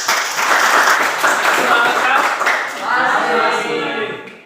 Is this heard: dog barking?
no